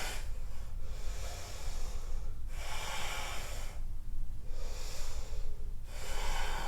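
Slow, deep breaths drawn during a vinyasa yoga flow, a few long inhales and exhales alternating in a steady rhythm, close and fairly loud with no talking.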